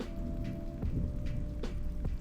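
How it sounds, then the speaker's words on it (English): Steady rain with low rumbling thunder as ambient background in a virtual-world game room, a continuous wash of downpour with a few soft distant rolls. "You have the sound of the fireplace, sound of the wind, or sound of the rain and thunder."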